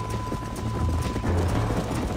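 A horse galloping in a race in Red Dead Redemption on PS5, its hooves making a steady clip-clop rhythm inside dense, continuous game noise, with no talk.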